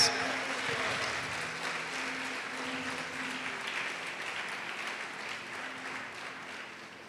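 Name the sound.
church congregation applause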